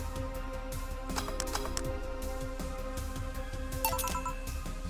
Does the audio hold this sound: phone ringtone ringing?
yes